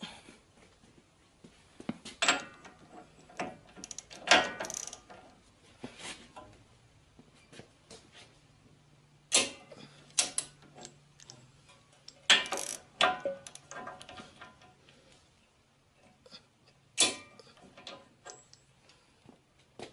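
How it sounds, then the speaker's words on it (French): A torque wrench set to 20 kg clicks while tightening front suspension parts on a torsion-bar car: sharp, isolated mechanical clicks and ratcheting bursts in irregular clusters, close by, with quiet gaps between them. "donc ma clé est réglée à 20 kg"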